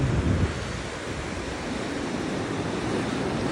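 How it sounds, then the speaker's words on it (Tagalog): Ocean surf washes onto a black-sand beach at Baluarte, Luna, La Union, Philippines, as a steady broadband roar, a wave surging at the start then settling into continuous hiss. "Ang lalaki ng alon."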